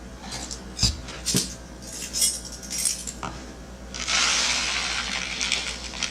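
A teaspoon of aquarium salt added to water for hatching brine shrimp and stirred, with a few clinks of metal against glass followed by a soft rushing, swirling hiss, close and quiet.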